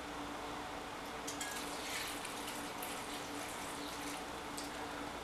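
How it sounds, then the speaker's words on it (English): Gentleman Jack whiskey is poured into a blender, a steady liquid splash and trickle running continuously at moderate volume with no talking over it. "let's go ahead and pour the Gentleman Jack in here"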